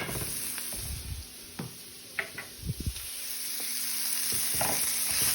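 Minced garlic sizzles steadily in a hot pan while a utensil stirs it, giving scattered scraping knocks over a continuous hiss, close and fairly quiet.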